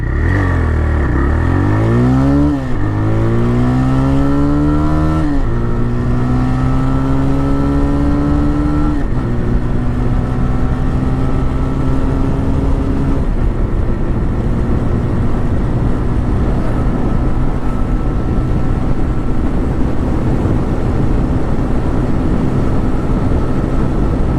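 A TVS Raider 125 motorcycle with 25,000 km on it accelerates hard in first gear in power mode, its engine rising sharply through several quick upshifts and then holding a loud, steady drone with wind noise, no voices present.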